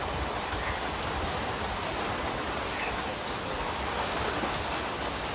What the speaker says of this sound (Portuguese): E a chuva está querendo nos atrapalhar.